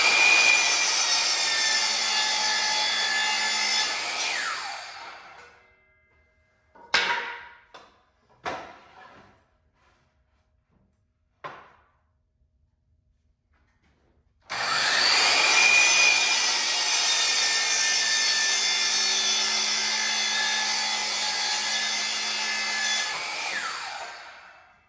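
Hand saw cutting a wooden board to length for a workbench: a long steady stretch of rasping strokes, a pause filled with a few knocks and clatters, then another sustained run of sawing, close and loud.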